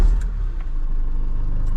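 A Vauxhall Movano L3H3 Euro 6 diesel van with 134,000 miles fires up, a brief starter crank followed by a close, loud, steady low rumble of idling.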